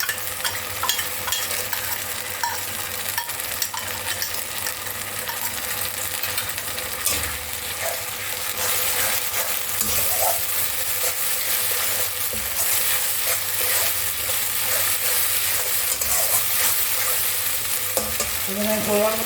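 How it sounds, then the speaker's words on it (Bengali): Onions and spice paste fry for a mutton curry in a steady, close sizzle, broken by occasional scraping stirs; no voices are heard. "পেঁয়াজ আমি খুব ভালো করে ভাজবো।"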